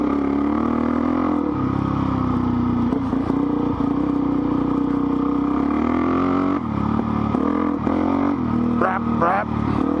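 A dirt bike engine running nearby, a steady droning tone with small rises and dips, under a person talking for much of the stretch.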